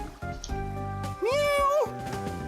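In a video game, a person's voice imitates a cat with one drawn-out, rising and falling meow, set among other game voice sounds.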